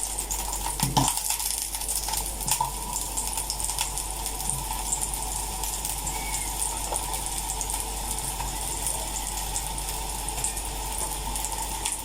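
Small raw onions and mushrooms drop into a pan, giving a couple of sharp clattering knocks early on, then a quieter stretch of faint kitchen hum and light scattered clicks.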